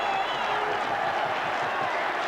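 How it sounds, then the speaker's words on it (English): Home crowd at a 1989 rugby match between Wales and Newbridge cheers and applauds, a dense continuous roar of clapping and voices heard from a distance, with a commentator speaking over it. "quite amazing scenes here from the home crowd, absolutely delighted"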